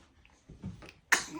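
A single sharp, short sneeze bursts out close by after a few soft babbling sounds, followed by faint rustling, in a chiropractic office in Royal Oak, Michigan.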